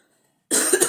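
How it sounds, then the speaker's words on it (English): A person coughs hard a couple of times in quick succession, close and loud, after half a second of silence, with no talk. "it's just the way I've been coughing during all the holidays"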